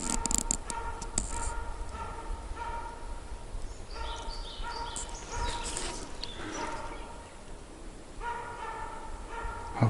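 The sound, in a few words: dog barking in a forest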